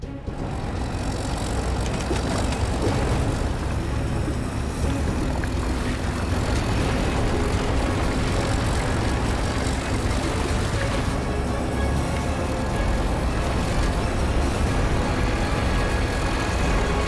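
A heavy diesel tow truck engine pulls hard during a highway recovery, a loud, steady roar with a deep rumble that holds without letup for the whole stretch.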